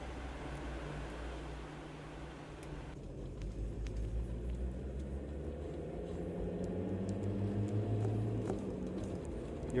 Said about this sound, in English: Oh, you hear the car in a minute. There she is. It's a big V8.